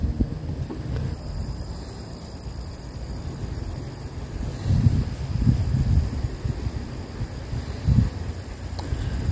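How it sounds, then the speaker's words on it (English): Strong gusting wind buffets a phone microphone draped with a towel outdoors, producing low rumbling thumps and swells that peak in several louder gusts, with no speech. "it is just incredibly windy right now."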